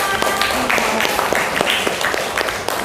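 Classroom of pupils clapping for the winners after a lesson, a brisk patter of scattered hands that stays fairly even and moderately loud for a few seconds.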